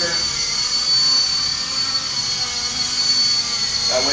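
A Novus FP200 mini RC helicopter, 16 inches long and 6.5 ounces, hovers indoors with a steady, close, high-pitched rotor and motor whine that holds at an even level throughout.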